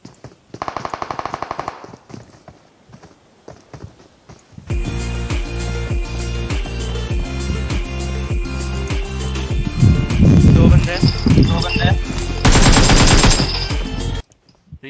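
PUBG Mobile M4 rifle fire: a long, loud stretch of rapid automatic shots with repeated bursts and overlapping game effects, preceded by a short burst and quieter interface sounds, ending abruptly.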